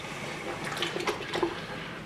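Wort in a homebrew kettle swirls and laps as an ingredient for nut brown ale is poured in under steady stirring, heard up close as gentle watery churning with scattered light splashes and drips.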